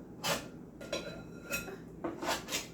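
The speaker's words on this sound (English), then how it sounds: "And it may be stuck to the cutting board, which is fine. Just going to scrape it off." A knife scrapes cold, frozen butter off a cutting board in a kitchen while Southern-style biscuits are being made, giving several short, close scraping and clinking strokes with brief pauses between them.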